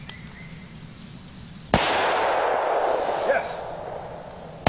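A gun fired in tribute gives one sharp, loud report partway through, followed by a long rolling echo and a fainter second crack. A voice speaks briefly beforehand.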